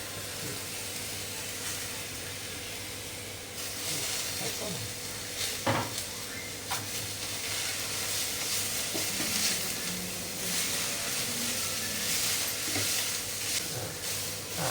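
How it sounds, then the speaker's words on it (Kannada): Mint and coriander leaves frying in mutton masala for a Mangalorean-style mutton dish, a steady close sizzle with repeated stirring scrapes and clanks of a spoon against the pan, no talking. "ಪುದೀನ ಮತ್ತೆ ಕೊತ್ತಂಬರಿ ಸೊಪ್ಪನ್ನ ಹಾಕ್ತೀನಿ ಅದು ಸಹ ಸ್ವಲ್ಪ ಫ್ರೈ ಮಾಡಬೇಕಲ್ಲ"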